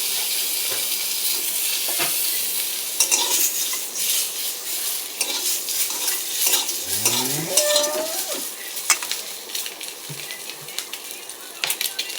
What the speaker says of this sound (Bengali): তেলে একটু হলুদ দিয়ে দিয়েছি, আর সেদ্ধ করা ডিমগুলোকে ভেজে নেব।